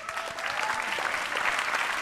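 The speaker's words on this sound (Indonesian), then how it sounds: "Tepuk tangan untuk Raditya Dika." Studio audience applauding a comedian at the close of a segment, brisk, dense clapping with individual claps standing out, close and steady throughout.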